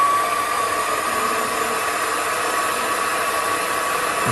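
An SP2102 mini lathe spinning smoothly in low gear at about 1012 RPM, a steady even motor whine and hum that holds constant, close and loud, with no voice.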